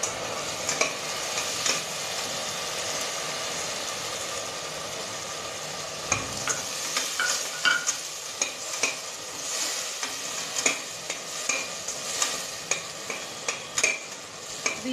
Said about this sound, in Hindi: अभी इसे हम अच्छे से भूनेंगे।